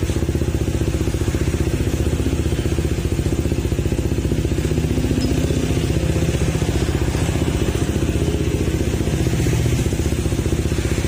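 A Honda PCX160 scooter engine idles steadily at close range, a continuous low mechanical hum with a fast even pulse and faint clatter, no talk over it.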